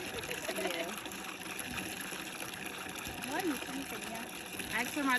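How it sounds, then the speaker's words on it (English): A hand pump pushes water in gushing, sloshing surges beside a canoe on the Mole River in Ghana's Mole National Park, with outdoor ambience and voices in the background. "The more you pump, that's the more the water comes."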